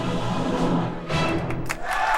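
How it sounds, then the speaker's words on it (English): Applause greets a fanfare as a dense, steady wash of clapping, fairly loud and close, holding for about two seconds with a brief dip in the middle. "Nice applause. Very nice."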